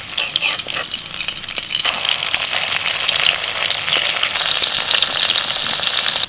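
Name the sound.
potato fritters frying in oil in a wok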